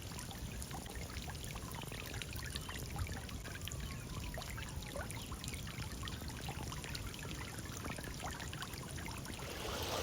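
A garden water fountain trickles continuously in a front yard, a steady close splashing wash with a thin high whine running over it throughout.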